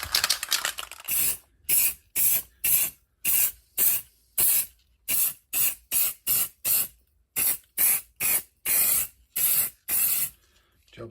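Short repeated bursts from a spray can of black paint coating foam cobblestones for an N gauge model, about sixteen hissing puffs of roughly half a second each with brief pauses between them, close and fairly loud.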